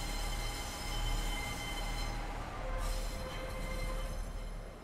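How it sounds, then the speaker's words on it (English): An HST high speed train passing near York in a train simulator game, a steady loud rumble with a droning engine hum and a high whine, swelling and easing over a few seconds. "We've got a HST that came in, that's what was making all that noise."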